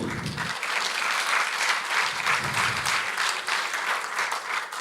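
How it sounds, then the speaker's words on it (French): Warm, sustained applause from a lecture audience, even and fairly dense for several seconds with many hands clapping together at moderate distance. "On l'applaudit."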